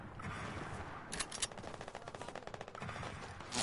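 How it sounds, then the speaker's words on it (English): Rapid gunfire in an online shooter video game, a burst of shots crackling in a quick repeated rhythm over a steady game background, fairly close and moderately loud, with no talking. "Somebody's shooting at me, bro."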